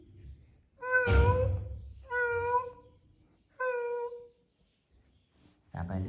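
A cat meows three times in clear, drawn-out calls spaced a second or so apart, close and fairly loud, with a short burst of another sound at the very end.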